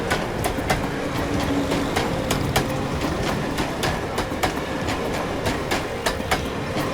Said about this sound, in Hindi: मैंने ट्रेन की आवाज सुनी थी। देखिए, ट्रेन की आवाज।